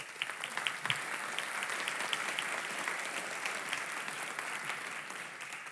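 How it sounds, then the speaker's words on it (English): Steady applause from an audience welcoming panelists at a lecture event, a dense wash of many hands clapping at an even level throughout, with individual claps standing out now and then. "So give them a warm applause"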